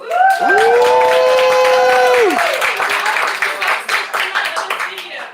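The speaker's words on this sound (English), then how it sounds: "just give him a round of applause" A crowd claps and cheers at an artist's talk, loud and sustained, with a rising electronic tone sweep at the start, before the applause breaks into scattered claps.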